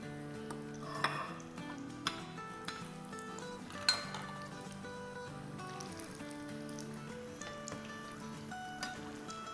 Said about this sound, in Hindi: बस आराम से इसको हम फ्राई करेंगे 8 से 10 मिनट तक